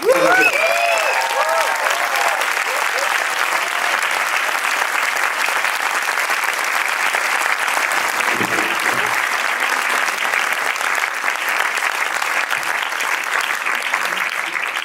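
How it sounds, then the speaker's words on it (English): Audience applause after a film premiere screening at the Doc'n Roll Festival, a dense, steady wash of clapping from a large crowd that holds at full strength for the whole stretch, with scattered voices and a brief whistle near the start. "I think you just heard the applause"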